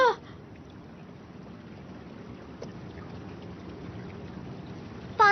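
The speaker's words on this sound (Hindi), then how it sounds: "पानी बह रहा है।" Water flowing in an animated Doraemon movie: a faint, steady trickling wash runs evenly throughout, with brief louder tones at the start and end.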